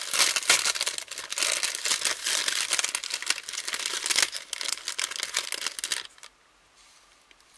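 Crinkly wrapping and paper being torn open on a parcel, a dense, loud, continuous rustle and crackle lasting about six seconds before cutting off to near silence.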